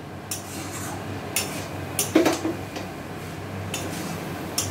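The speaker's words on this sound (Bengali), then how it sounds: "দিদি পুরোটা নেড়ে দিচ্ছে ভালোভাবে" Ridge gourd and prawn curry being stirred in a wok, a metal spatula knocking and scraping the sides in scattered close clinks with a brief cluster of clatter in the middle, quiet between strokes, no voices.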